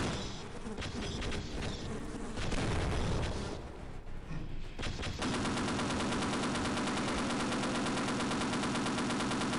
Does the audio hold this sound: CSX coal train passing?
no